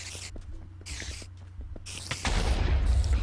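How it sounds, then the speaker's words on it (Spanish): A muffled Minecraft explosion booms in with a heavy low rumble after scattered clicks and soft bursts, loud and sustained to the end. "ahí me ha afectado la explosión, ¿eh?"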